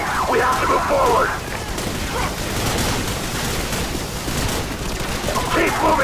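Gunfire and battle noise from the video game Call of Duty 4 Modern Warfare Remastered campaign, a dense continuous rumble of shots throughout, with shouted voices at the start and end.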